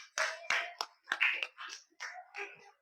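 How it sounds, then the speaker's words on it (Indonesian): A small classroom group of children gives a brief round of clapping for a pupil: about seven sparse, uneven claps, close and fairly quiet, with silence between them. "Tepuk tangan buat Nata"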